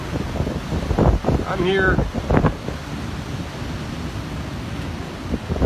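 Strong hurricane Ian wind and surf on the Myrtle Beach oceanfront, with water pushing up to the edge of the dunes. A steady roar of wind buffets the microphone throughout, and someone talks briefly near the start.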